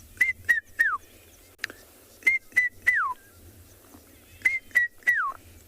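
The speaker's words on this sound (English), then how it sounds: "one of my favorite birds to start hearing at this time of the year, because it means that the verdant and fertile season of summer is almost here, is the red-chested cuckoo" A red-chested cuckoo calling in South African bush, three repeated series of three clear whistled notes, the last dropping in pitch, ringing out loud and fairly near over a quiet background.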